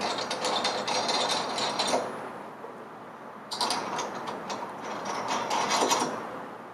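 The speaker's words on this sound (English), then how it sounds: "just reassemble the body bolts in a cross pattern" Bolts on a Flo-Tite valve body being reassembled and tightened in a cross pattern, rapid ratcheting clicks in two close bursts separated by a short pause.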